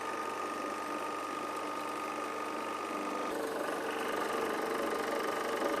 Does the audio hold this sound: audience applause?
no